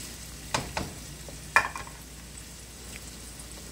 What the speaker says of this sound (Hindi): इसके अंदर फिर मैं आलू ऐड करूँगी. तो आलू ज़रा सही फ्राई हो जाएंगे